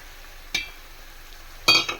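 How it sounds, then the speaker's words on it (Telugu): Eggs cracked into a hot pan of colourful frying food give a steady low sizzle, broken by two sharp clinks and scrapes of a utensil against the pan; no one speaks. "ఇప్పుడైతే ఎగ్స్ని యాడ్ చేసుకుందాం."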